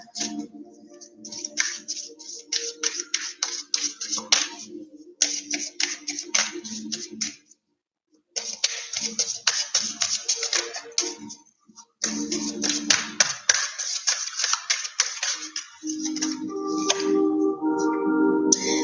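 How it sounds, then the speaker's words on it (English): An oracle deck is handled and shuffled to pull a card, with bursts of crisp riffling and flicking that stop for brief pauses, close to the listener, and a softer tonal sound near the end. "Now we are pulling an oracle card from the oracle deck."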